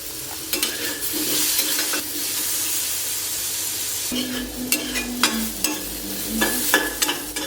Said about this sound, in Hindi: और नमक डालकर आलू को हम हल्का सुनहरा रंग का होने तक भूनेंगे।